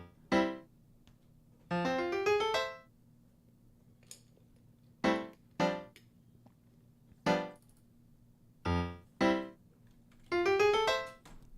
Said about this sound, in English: the little piano idea that I played before we started the stream that I wanted to use today sounds like this